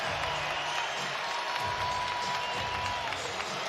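A stadium crowd at T-Mobile Park cheers and applauds during the Home Run Derby, a broad, sustained roar heard from a distance at low level, with a whistle-like tone running through it.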